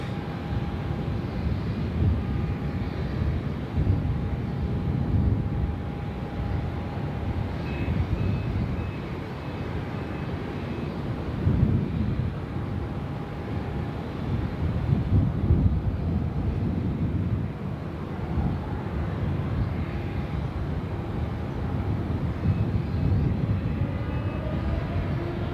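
A Shanghai Airlines airliner taxiing on a taxiway at Sydney Airport produces a steady, moderately distant engine rumble with a faint tonal whine, heard alone with some wind buffeting the microphone.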